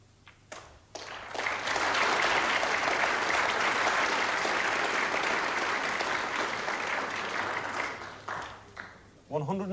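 Sustained applause from a snooker crowd at the 1981 Jameson final between Steve Davis and Dennis Taylor, rising after a few early claps and holding steady for several seconds before fading into a commentator's voice.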